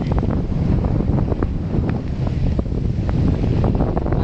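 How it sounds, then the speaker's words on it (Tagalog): Strong wind roars and buffets the microphone continuously on the coast at Tacloban, Leyte, Philippines, with a low rumble and faint water sounds beneath, no voices. "lumalakas na yung hangin"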